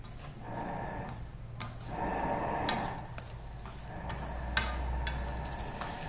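A spatula stirs tomato sauce with quail eggs and spring onion in a pan, giving soft scraping strokes over a gentle, steady sizzle, close and fairly quiet with no talking.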